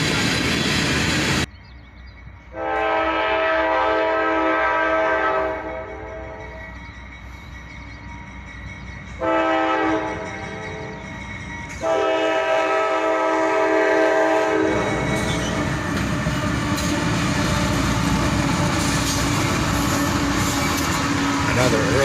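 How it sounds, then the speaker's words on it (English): A freight train led by a YN2-painted locomotive sounds loud, sustained horn blasts with pauses between them, then rumbles past close by with a broad roar of engines and wheels. "we would catch this train with a YN2 leader."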